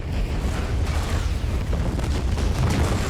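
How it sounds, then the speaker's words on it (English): A massive explosion of a villain's base in a James Bond film: a continuous, loud, deep rumbling roar with dense crackling debris, sustained throughout without a break and with no talking. "blows up the whole freaking base in the largest explosion ever created for a movie"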